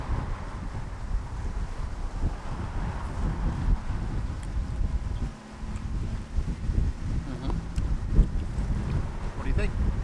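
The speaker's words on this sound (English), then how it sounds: "It's a little windy." Steady wind buffets a microphone outdoors at the beach, a rough low rumble of gusts continuing throughout with faint background activity.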